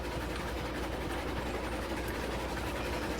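A Heisler switching locomotive in the Railroads Online game chugs along with a continuous, even rumble of engine and wheels, moderately loud and steady throughout with no speech.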